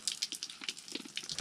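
Water splashes and patters from an outdoor tap in front of a house near Kotor, Montenegro, an uneven, faint spattering stream with no voices.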